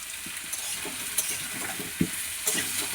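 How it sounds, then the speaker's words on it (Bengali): Onion, potato, papaya and tomato fry together in a pan with salt for a thin chicken curry, giving a constant loud sizzle broken by soft stirring scrapes and an occasional spoon knock; no voices. "পেঁয়াজ, আলু, পেঁপে, টমেটো একসাথেই ভাজবো"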